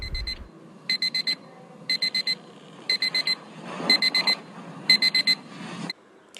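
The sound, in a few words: alarm clock ringing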